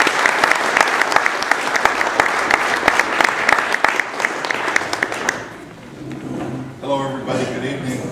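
Enthusiastic applause from an evening audience welcoming an economics speaker, dense and steady for about five seconds before fading out, with a voice starting to speak afterward.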